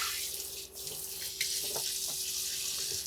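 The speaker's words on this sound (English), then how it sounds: "Full-size kitchen faucet here with a bit of a pull cord" Water runs steadily from a full-size pull-down kitchen faucet into the sink of a camper van, a continuous close hiss with small splashes and no talking.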